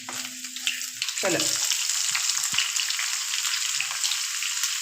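Mushrooms sautéing in a pan for a Kerala mushroom curry, a steady close sizzle and frying crackle throughout with occasional stirring scrapes and brief talk.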